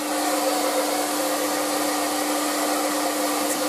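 An aqua ETI Professional Turbodryer 2000 hairdryer runs on high speed, a loud, constant, close whirring blow with a steady motor whine.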